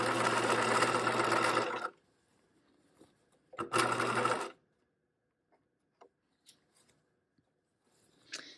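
A sewing machine stitching a shorts waistband: a close, loud whirring run of about two seconds, a brief blip, then another two-second burst, followed by near silence with faint handling clicks.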